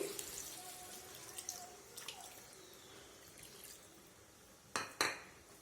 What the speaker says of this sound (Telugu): కొద్దిగా వాటర్ వేసుకుందామండి